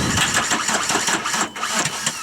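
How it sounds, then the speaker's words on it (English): A DI diesel engine cold-starts with too much ether, firing harshly in rough, uneven bursts that knock loudly and close up as it struggles to catch. "This is what happens if you put too much ether in a diesel"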